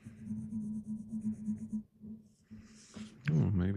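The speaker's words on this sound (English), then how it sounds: "Great, let's color in." Pen coloring in on paper, a soft scratchy scribbling that runs steadily for about two seconds, then pauses before brief rustling and a short spoken remark near the end.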